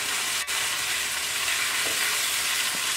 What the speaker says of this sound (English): I'm going to go ahead and add the tomatoes to the pan now